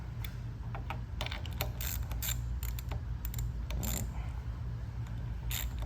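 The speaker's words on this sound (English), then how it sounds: "Now with my regular ratchet, I'm just gonna gently get these things not even super snug." Ratchet wrench gently turning bolts on an AR45 pump outlet manifold, a series of quick light clicks in short bursts, close and faint, with no talk.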